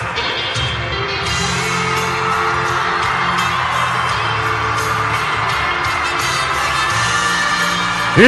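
Arena Mexico crowd at a CMLL lucha libre wrestling show roars in a sustained ovation, cheers, whoops and shouts of a large indoor audience layered thickly, loud and steady with a sharp bang at the end.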